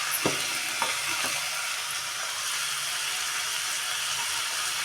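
Potatoes, beans, carrots and cabbage fry in a pan, producing a steady, close sizzle with a few soft scraping knocks of stirring near the start.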